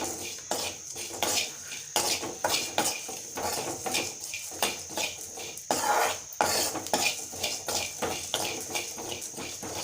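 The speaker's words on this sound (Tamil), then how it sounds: "சிம்மிலே வச்சுட்டு நல்லா வதக்கணும்." Tomato kurma masala with fennel is sautéed on a low flame in a pan, with frequent clattering utensil scrapes and knocks against the metal over a soft sizzle.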